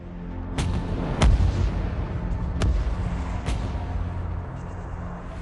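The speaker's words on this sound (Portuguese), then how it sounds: "Ele atira tão longe que talvez você não veja o navio em que está atirando por causa da curvatura da Terra." Heavy battleship cannon firing shells, several sharp booming reports at uneven intervals over a steady loud rumble, with no voices heard.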